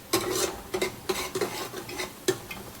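Coriander and garlic-ginger paste being stirred in hot oil in a pan: repeated scraping strokes of a spoon against the metal, each with a short burst of sizzle, close and fairly loud with no talk.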